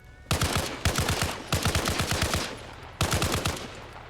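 Automatic gunfire in Arma Reforger with an enhanced weapon recoil mod: four loud, rapid bursts of machine-gun fire separated by short pauses, close and alone.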